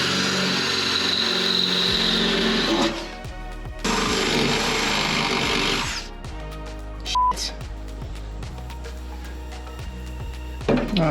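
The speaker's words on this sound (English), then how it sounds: "Now we just need to, I don't know, drill 2 holes" A power drill whines in two long bursts, drilling holes in a Ford Mustang Fox body frame rail, then quieter clanks and tool handling follow, ending with a brief final whir.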